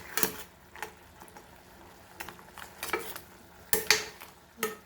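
A spoon scrapes and clinks through Goan crab chilli fry in a pan, with intermittent stirring strokes over a faint background sizzle.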